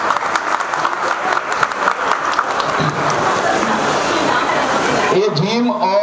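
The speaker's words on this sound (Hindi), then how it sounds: "सबके लिए ताली दीजिए एक बार।" Audience applause at a housing society's Independence Day celebration, a steady dense clapping throughout, ending with voices.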